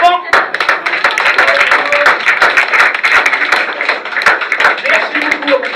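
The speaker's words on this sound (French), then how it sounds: "on va applaudir le vent." A crowd of children claps together at an outdoor football event, a dense, lively patter of many hands lasting throughout, with voices mixed in underneath.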